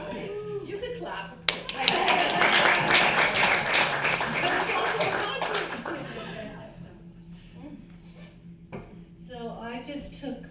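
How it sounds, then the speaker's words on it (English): An audience at a prayer gathering breaks into a burst of hand clapping lasting a few seconds, then fades as a voice resumes speaking. "You can clap."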